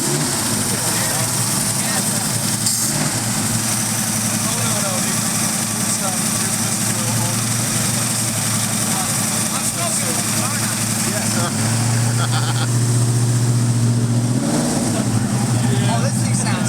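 Ford Mustang engine idling roughly and smoking after being revived, a loud steady low rumble close by that continues throughout, with people talking excitedly over it.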